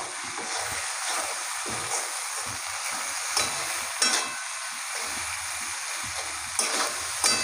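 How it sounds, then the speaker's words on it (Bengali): A spice paste of turmeric, ginger paste and salt sizzles while being sautéed in a pan for a village-style potato chicken curry, with a steady frying hiss broken by occasional scraping stirs, close and moderately quiet, no talking. "এবার আমি এই মশলাটাকে ভালো করে কষিয়ে নেব।"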